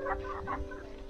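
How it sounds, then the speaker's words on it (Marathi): Chickens cluck softly in short, repeated bursts outdoors in a rural Konkan setting, moderately near over a steady low hum. "भरपूर कोंबडी आहेत."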